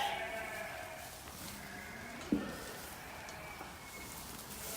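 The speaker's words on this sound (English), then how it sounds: "let's have a look at these new lambs then" Newborn lambs in a lambing shed, several faint bleats rising against a hushed, airy background with a brief knock partway through and no voices.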